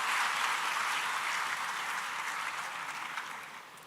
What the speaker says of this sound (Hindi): तालियों से स्वागत करेंगे कुमारी सोनाली सिंह परमार जी का